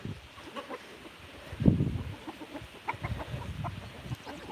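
Chickens clucking while being fed, a close flock of birds making low, uneven clucks and murmurs with a louder squawk near the middle, alone without talk.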